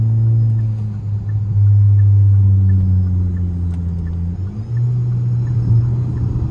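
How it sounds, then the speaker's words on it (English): Turbocharged Kia car engine heard from inside the cabin, a loud steady low rumble that shifts pitch and dips briefly as it downshifts, then settles at a new drone. "I know y'all heard that downshift"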